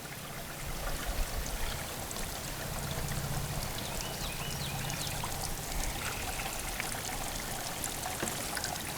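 Water pours into a rainfall simulator at an outdoor 4-H water fair demonstration, a steady trickling, splashing stream heard continuously at moderate level without speech.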